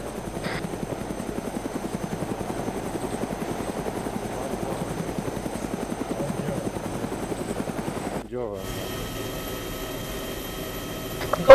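A military video game helicopter throbs with a steady, fast rotor chop at close range, then the tone shifts to a smoother, higher engine whine near the end, while voices talk faintly underneath.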